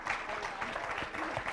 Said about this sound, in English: Could we applaud that basic idea?